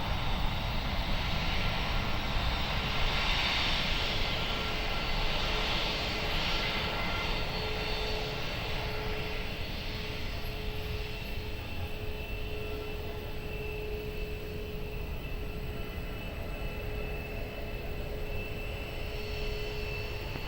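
An airliner taking off at Lisbon Airport, a steady broad jet-engine roar with a faint constant whine, slowly shifting as the aircraft climbs away, continuous throughout with no talking.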